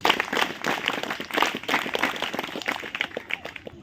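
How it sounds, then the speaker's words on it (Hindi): An audience claps together on cue at a motivational talk for young people, a dense steady patter of hands that swells and holds for several seconds with a few louder bursts, no voices on top. "Now clap, go"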